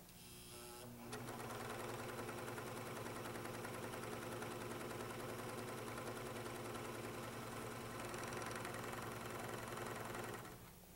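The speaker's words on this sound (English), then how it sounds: "Now sew these two seams together and trim and press" Sewing machine stitching two shoulder seams on a T-shirt, a fast steady mechanical whir and clatter running continuously for about ten seconds, starting and stopping abruptly, faint and alone.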